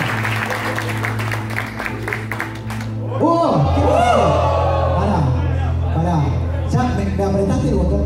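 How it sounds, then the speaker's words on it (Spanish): An audience at a furry convention's fursuit dance competition claps and cheers, the scattered applause giving way after about three seconds to loud music with whoops and shouts over it. "¡Fuertes aplausos!"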